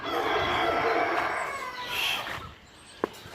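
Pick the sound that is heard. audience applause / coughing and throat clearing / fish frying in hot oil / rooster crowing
rooster crowing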